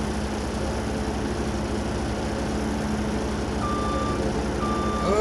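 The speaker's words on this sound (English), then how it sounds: "go little skid steer" Reversing beeps from a skid steer in Farming Simulator 25, a thin repeating tone over a steady loud engine drone that runs throughout.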